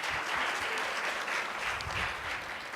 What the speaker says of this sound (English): Okay, a round of applause for that.